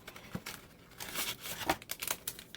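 A box of unflavored gelatin packs is pried open in a kitchen, with soft crinkling, tearing and rustling of paper and cardboard in short irregular bursts, close and fairly quiet.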